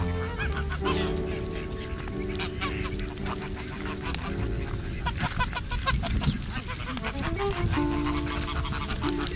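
A flock of geese honks loudly and continuously at close range outdoors in Crete, overlapping calls forming a dense, steady clamour throughout.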